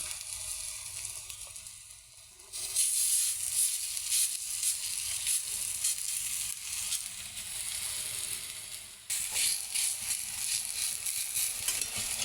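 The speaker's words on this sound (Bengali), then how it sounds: "লাল লাল করে ভাজা হয়ে যাবে" Pumpkin seeds fry in a pan with a steady, bright hiss of sizzling oil that swells up after a short quieter stretch and carries on evenly, close by, with no talking.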